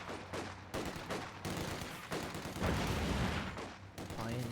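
Heavy .50 cal machine gun fire in a World War II strategy game match, dense overlapping bursts and explosions running continuously at high level with no voice over it.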